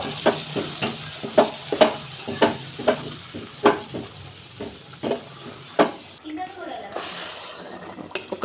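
A spice mixture for tomato pickle fries in oil in a pan. A utensil stirs it in a steady rhythm of sharp, close scrapes over a soft, continuous sizzle, and the stirring fades near the end.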